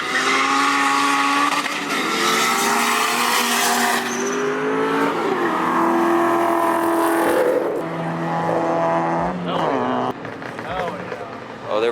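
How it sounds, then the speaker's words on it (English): Cars racing a Tesla at a car meet, engines whining and revving with rising and falling tones, some tire squeal and passing roar, loud and close, with people talking and shouting over it. "Oh, they're racing the Tesla?"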